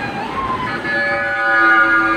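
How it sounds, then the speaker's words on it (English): An ambulance siren wails from a distance on a Beijing street, its rising and falling tones carrying clearly over low background traffic. "Oh, there's an ambulance."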